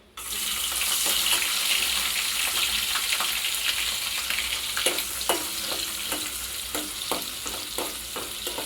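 Dried prawns fry in a pan for a drumstick curry, giving a loud, close, continuous sizzle with occasional stirring clatters.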